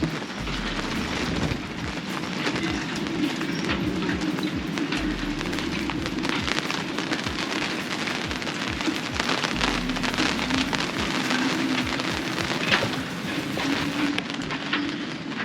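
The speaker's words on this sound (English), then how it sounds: "Oh, there's the rain." Dense, steady rain drums on a sailboat during a storm, a constant close patter without letup and no voices, with a faint low hum underneath.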